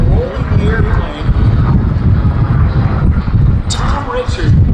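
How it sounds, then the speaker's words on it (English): A P-51 Mustang warplane roars low over the ocean at an air show, with a loud continuous engine drone mixed with heavy wind buffeting close to the microphone. "the P-51 that's right along the ocean, right in front of us right now, pulling up over the top into this vertical line and rolling the airplane"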